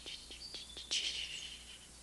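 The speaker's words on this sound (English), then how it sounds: "there's been this twittering of the birds" Birds twitter faintly outdoors: a few short, thin chirps spaced about a quarter-second apart, then a slightly longer, louder trill, all quiet and distant over a low steady background hum.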